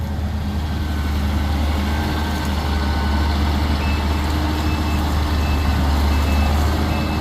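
New John Deere sugarcane harvester working at the start of the cane cutting season, a loud continuous engine drone with regular electronic reversing beeps sounding over it, no speech.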